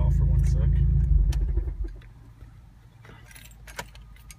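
A Haltech-tuned Hyundai Genesis Coupe with 750cc injectors idles with a deep rumble that cuts off abruptly when the engine is switched off, leaving quieter background with jingling keys and some talking.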